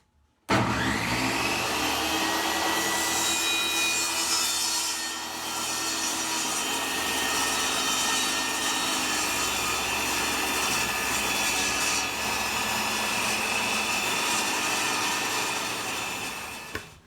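A table saw roars through a wooden neck blank for a tenor banjo, one long continuous cut with a steady motor whine and gritty blade noise, loud and close, spinning down at the end.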